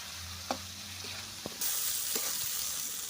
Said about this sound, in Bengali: মশলার ভিতরে মাছ দিয়ে দিচ্ছি চিংড়ি মাছটা আমার কষা লেগে গেলো